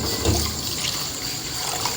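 Sago pearls rinsed in water in a kitchen give a soft, steady trickle and slosh of liquid, close by, over about two seconds.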